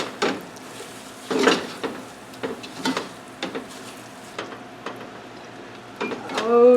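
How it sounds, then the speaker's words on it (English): A spoon stirs a pot of shepherd's pie filling: a run of scraping, clicking strokes against the pan with a faint sizzle underneath, ending in a louder scrape. "Give that a stir."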